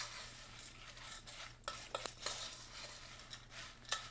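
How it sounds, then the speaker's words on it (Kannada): Potato chips being mixed with peanuts, coriander and onion in a bowl, a quiet run of crisp rustling and light spoon scrapes with a few louder crunches, close and faint. "ಇವಾಗ ಇದಕ್ಕೆ ಕಡಲೆ ಬೀಜ, ಕೊತ್ತಂಬರಿ ಸೊಪ್ಪು ಮತ್ತು ಈರುಳ್ಳಿ ಹಾಕ್ಕೊಂಡು ಫಸ್ಟು ಒಂದು ಸಾರಿ ಮಿಕ್ಸ್ ಮಾಡ್ಕೊಳ್ಳೋಣ"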